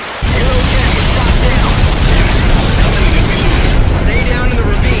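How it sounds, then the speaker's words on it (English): A dense, roaring blast fills the scene in the air-combat game Ace Combat 04, starting abruptly and rumbling on as sustained loud noise for several seconds, with no talk over it. "What an explosion!"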